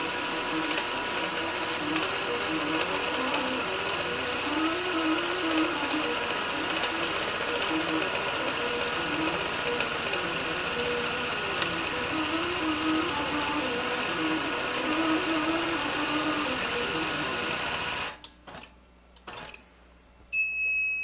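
An embroidery sewing machine runs a stitch-out with the Dwell setting on three, a steady loud mechanical whir with rapid needle clatter that continues unbroken and then stops abruptly near the end.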